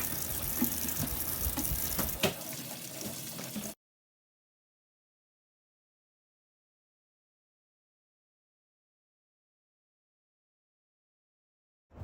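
Tap water runs into a kitchen sink while a bowl and hands are washed, a steady close gush for about four seconds that cuts off abruptly into silence.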